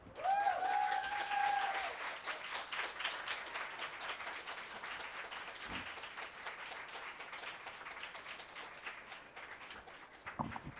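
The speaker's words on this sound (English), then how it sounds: "one more round of applause to everyone" An audience at a poetry reading breaks into warm, sustained applause with a few cheers at the start, the clapping thinning gradually but continuing throughout.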